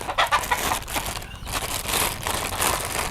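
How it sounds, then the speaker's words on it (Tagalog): Chickens cluck and crow noisily in the background outdoors, several birds calling over steady ambient noise with no speech. "May mga libreng background na ako kasi ang daming umiingay na manok."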